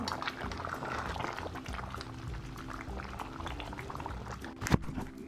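Rice bubbling away in a pot for chicken yakhni pulao, a low continuous simmering burble with one brief louder knock near the end, quiet and close.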